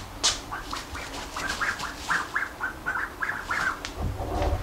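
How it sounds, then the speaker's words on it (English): Pet ducks quack and chatter in a rapid series of short nasal calls at close range, fairly even in rhythm, with a faint extra call near the end and no speech. "they're going to be our adventure ducks"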